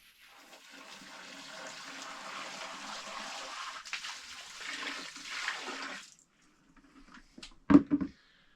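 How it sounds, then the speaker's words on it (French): Clean water rushes into a boat's bilge for several seconds in a steady, hollow wash that stops abruptly, followed by a couple of short splashes and knocks in the quiet afterward. "Allez, je remets de l'eau claire."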